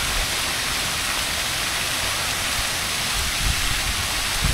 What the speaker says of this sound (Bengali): আর এইখানে সামনে একটা খুব সুন্দর ঝর্ণা, ফোয়ারা, কন্টিনিউয়াসলি এখানে ফোয়ারা হয়ে যাচ্ছে।